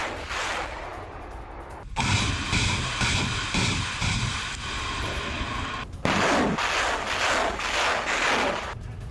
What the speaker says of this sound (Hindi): ग्रैड रॉकेट लॉन्चर से विध्वंसक हमला किया गया।